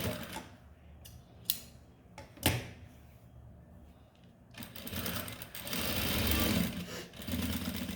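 A few sharp clacks and knocks from a sewing machine, then its motor starts and stitches a blouse seam in a loud, sustained whir nearby.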